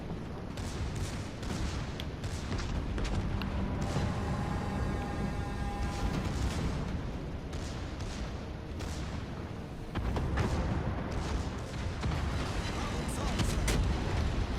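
The Bismarck's secondary guns fire repeatedly in the World of Warships Legends game, a dense run of booming rounds and rumbling artillery that keeps going throughout, with a voice talking over it.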